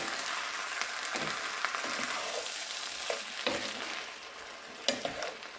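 Okra and canned diced tomatoes being stirred together in a hot pan, with a steady broadband sizzle and frying hiss and a few sharper scrapes and clinks of the spoon, close and continuous without talk.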